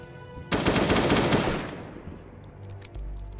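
Loud burst of automatic gunfire from weapons being used up until they break in a Last Day on Earth raid, a dense rapid volley lasting about a second before cutting off, followed by quieter game ambience.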